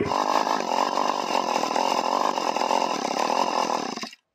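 Small engine running on a pony project while its carburetor screw is adjusted, a loud, close, steady buzzing drone that cuts off abruptly at the end as the engine stalls.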